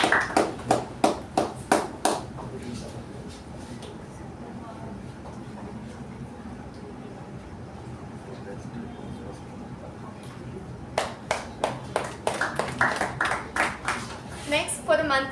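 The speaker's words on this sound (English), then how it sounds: "Let's give her a huge round of applause" Scattered, distinct claps ring out at a Toastmasters meeting from what sounds like a small group, with a quieter gap in the middle before a second round of clapping starts.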